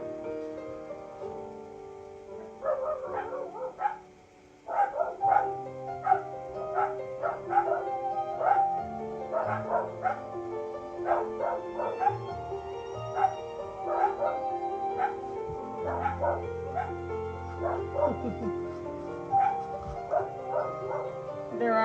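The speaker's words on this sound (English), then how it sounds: "They bark though to let you know somebody's there." Dogs bark repeatedly at a moderate distance, a steady run of sharp yips and barks lasting about twenty seconds over a low background rumble.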